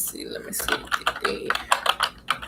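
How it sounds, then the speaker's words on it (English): Rapid, irregular clicking of keys on a computer keyboard, close and fairly loud, with a voice murmuring faintly underneath. "used to hate the sound of the keyboard"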